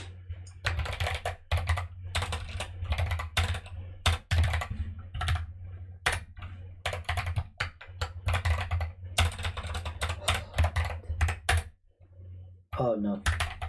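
Rust code for a roguelike game being typed on a computer keyboard, bursts of rapid close-up key clicks with short pauses between them, and a brief stretch of speech near the end.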